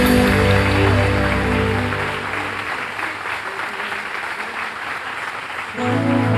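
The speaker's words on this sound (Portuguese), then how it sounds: "vamos dar uma linda salva de palmas para Jesus" A church congregation claps loudly at a Sunday communion service, broad sustained applause running throughout, slightly thinning in the middle before swelling again, with music and voices underneath.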